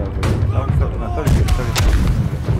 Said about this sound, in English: Cannons are prepared to fire!